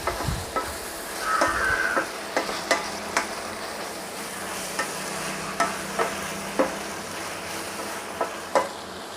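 Potatoes and tomato being stirred in a frying pan over a low flame, a spoon scraping and clacking in repeated sharp strokes over a steady soft sizzle, close by and with no talking.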